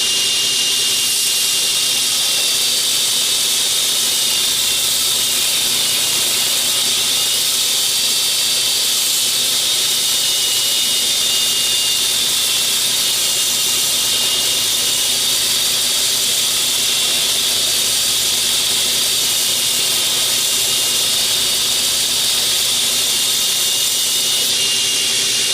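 A grinder shapes a fillet knife blade, giving a loud, steady, bright hiss and whine that runs unbroken throughout, with no talk.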